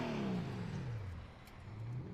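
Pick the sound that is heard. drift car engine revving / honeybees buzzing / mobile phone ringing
drift car engine revving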